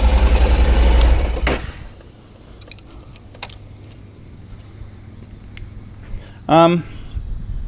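A Honda NC700X motorcycle idles with a low, steady rumble, then cuts off abruptly. Keys jangle afterward, along with a few faint clicks and a short rattle, and a voice speaks nearby.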